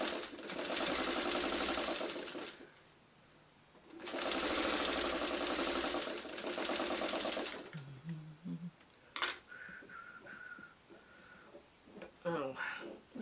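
Sewing machine running in two sustained bursts while piecing a quilt block for Dorothy's Economy Block, loud and steady, followed by softer handling noises and someone talking.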